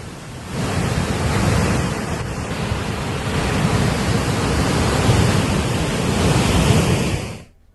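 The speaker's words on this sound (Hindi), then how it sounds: "ऋषिकेश में हो रही जबरदस्त बारिश के चलते खारा स्रोत पर नदी उफान पर है।" Swollen river in Rishikesh rushing hard after heavy rain at Khara Srot, a steady, loud, broadband roar of churning water that continues without a break and then stops abruptly.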